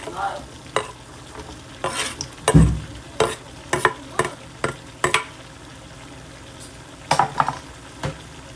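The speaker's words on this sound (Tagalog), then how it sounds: "Lagay na natin yung potato and carrots." Potatoes and carrots are stirred in a pan of Ilokano igado with bay leaves. About a dozen distinct scraping strokes come over a soft background sizzle, close and fairly loud.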